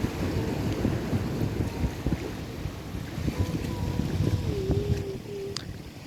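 Steady low rumble of a passenger ferry's engine and rushing water as it sails toward Sabang, Indonesia, with wind buffeting throughout and no voices.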